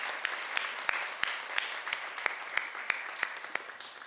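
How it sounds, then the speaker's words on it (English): An audience applauding presenters at an evening event on petitions, a moderate round of clapping with distinct individual claps popping out at an irregular pace. "We can give them a round of applause."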